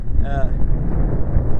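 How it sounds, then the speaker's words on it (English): Wind buffets the microphone in a loud, low rumbling roar, with a brief faint whistling tone near the start. "Apologize for the wind."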